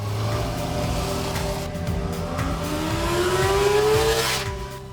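A 2021 Honda CB650R inline four-cylinder motorcycle engine revs up hard and climbs in pitch, a loud rising whine with a steady mechanical drone underneath.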